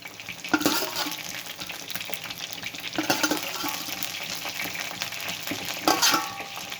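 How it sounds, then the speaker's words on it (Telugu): Fish 65 pieces deep frying in hot oil, a steady close sizzle and bubbling with occasional stirring clatter, with no talking. "రెండుసార్లు వేయించుకోవాలి"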